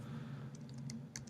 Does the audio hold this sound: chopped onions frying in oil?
no